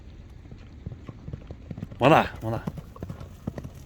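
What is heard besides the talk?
horse hooves clip-clopping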